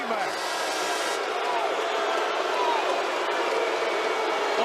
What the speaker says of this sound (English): The crowd is not happy with that.